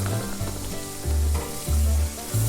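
Flour hits a hot pan for country gravy and sizzles loudly up close, with a steady frying hiss and scraping stirring as a fork works it in.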